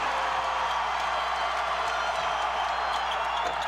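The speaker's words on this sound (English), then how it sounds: "Now listen to the crowd" Basketball arena crowd during a Tennessee versus Georgia game, a steady loud roar of cheering and clapping that fills the whole clip without letup.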